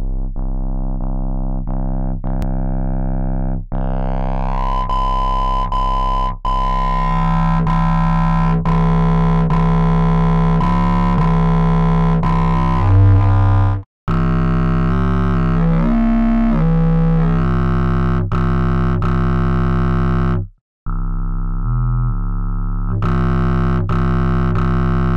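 A heavily distorted synth tone runs through a rack of dual filters, a saturation drive stage and a dry/wet blend. It holds as a dense, buzzing harmonic drone over about 25 seconds, with filter sweeps shifting the timbre and two abrupt brief dropouts.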